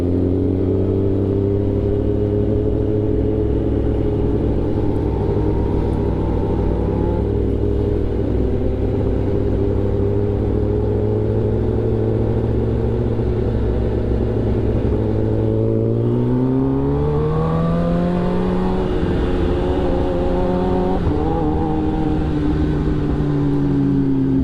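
A motorcycle engine runs loud and close while riding, holding a steady droning pitch, then dropping and climbing again through gear changes as it revs, with constant wind and road roar underneath.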